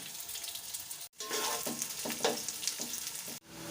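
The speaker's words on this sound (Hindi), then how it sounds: "ये 2 मीडियम साइज़ की प्याज ली हैं, इसे गोल्डन फ्राई करेंगे।" Two medium onions fry in ghee in a pot for chicken pulao, giving a steady close crackling sizzle with brief breaks and light stirring scrapes.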